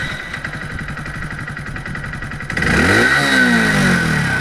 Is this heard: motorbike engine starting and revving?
yes